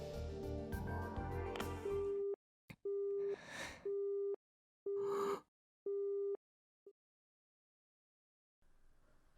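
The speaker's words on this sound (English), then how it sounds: "I heard the cold electronic beep of an ended call" Electronic tones of an ended phone call in the Chaos;Child video game, a repeated busy-signal beep in several evenly spaced pulses, alternating with bursts of noise before fading to near silence.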